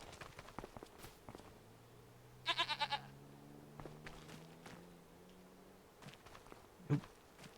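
One brief goat bleat from a barn in Farming Simulator 25 comes partway through, soft against low hum, scattered footsteps and a few faint tones.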